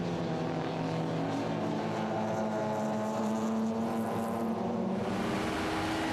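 Minis and BMWs roar around the Nürburgring during a 2010 VLN endurance race, a continuous blend of racing engines whose pitch shifts as the cars pass, with no other sounds breaking through.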